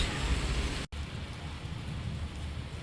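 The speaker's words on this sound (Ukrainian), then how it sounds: "у Львові знову йде дощ." Steady heavy rain pattering on a surface in Lviv, a dense constant hiss with a brief cut partway through.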